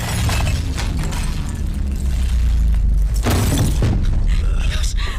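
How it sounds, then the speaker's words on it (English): A mirror shatters in a horror film as a house shakes around the characters, a loud crash of breaking glass over a dense, rumbling dramatic soundtrack, with a burst of sharp fragments midway. "A mirror shatters"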